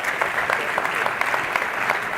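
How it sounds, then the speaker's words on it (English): Steady, dense applause from a large audience at a European political party election congress, greeting panelists on stage, sustained and even throughout. "A warm applause, please, for the panelists."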